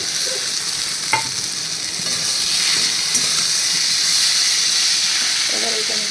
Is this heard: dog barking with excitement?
no